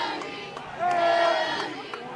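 Crowd noise at a high school football game, Lagrange at Mary Persons, swelling into loud sustained cheering and shouting from a large stand of spectators, with a whistle-like tone rising over the roar for about a second.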